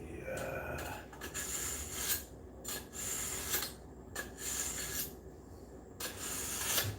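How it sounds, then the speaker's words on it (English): A tool being sharpened in a home setting, rhythmic rasping strokes repeating roughly every second, fairly close but low in level, with no speech. "We're sharpening this baby up."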